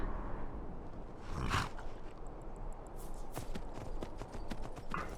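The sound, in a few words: horse hooves clip-clopping while riding in Skyrim video game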